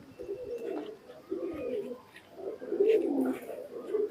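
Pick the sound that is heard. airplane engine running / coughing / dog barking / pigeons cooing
pigeons cooing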